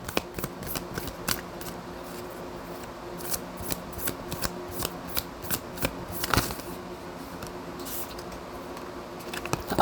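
A tarot deck being shuffled by hand, with repeated riffling and slapping card bursts spread across the clip, close and fairly quiet with no talking.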